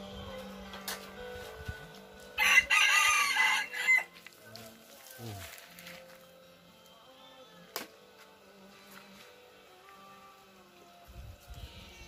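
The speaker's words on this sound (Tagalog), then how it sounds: "Ito yung nahuli naming labuyo." A captured wild red junglefowl (labuyo) gives a loud, brief burst of crowing and clucking close by, followed by scattered quieter rustles and clicks with faint talk in the background.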